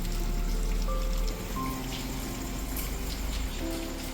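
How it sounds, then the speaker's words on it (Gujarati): Heavy monsoon rain pours steadily outdoors as a dense, even hiss with a low rumble, close and loud, and no one speaks. "જબરો વરસાદ આવે છે."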